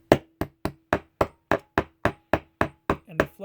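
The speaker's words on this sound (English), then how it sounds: "so you definitely need a hammer" A hammer drives a button into a piano bench with about thirteen sharp, evenly spaced knocks, close and crisp, the last few slightly muffled.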